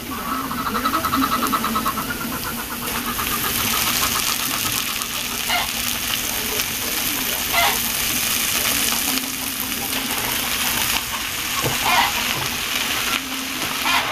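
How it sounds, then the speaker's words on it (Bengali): Red amaranth leaves going into a pan of lightly fried ingredients, a loud dense sizzle that holds steady throughout with small crackles and stirring scrapes. "হালকা ভাজা ভাজা হয়ে গেছে, এবার লাল শাকগুলো দিয়ে দেবো।"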